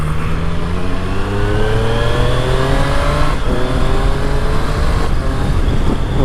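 A Triumph Street Triple RS motorcycle doing a flyby, its engine loud and revving hard with rising pitch sweeps through gear changes, roaring close past for several seconds without any talking.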